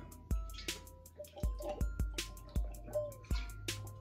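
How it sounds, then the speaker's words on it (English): Water splashes and trickles into a container in a series of short bursts and drips, close and fairly quiet, with no talking over it. "let me get some water"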